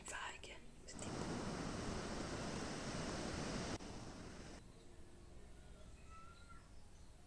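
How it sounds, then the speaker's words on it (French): Ocean surf breaking on the shore at Bourail, New Caledonia, a broad steady wash of noise that swells loudly for a few seconds and then eases back into a softer background rush, with no talking. "Il y avait des jolies vagues."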